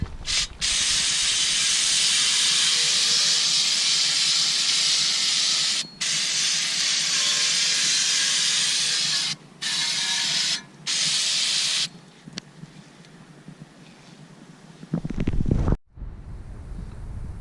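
Brake cleaner sprays onto the brake parts of a BMW E90 during a brake upgrade, a loud steady hiss held for long stretches with brief breaks, then a sharper clatter near the end.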